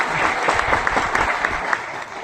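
A live audience at a motivational event gives a short, dense round of clapping, loud and close, fading a little near the end.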